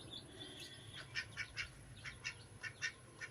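Guinea fowl calling, a rhythmic series of harsh, repeated cries spaced about evenly, fairly faint against a quiet, hissy background.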